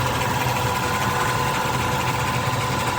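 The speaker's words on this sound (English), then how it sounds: "The idle of the vehicle sounds pretty good." Engine of a car with an overheating issue idling with the hood open, a loud, steady, close mechanical hum and rattle that holds an even level throughout, with no talking.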